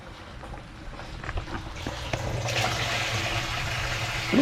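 Water gushes and splashes through a homemade hydroponics rig as a pump cycles it in and out, rising to a louder steady rush partway through, with no voices.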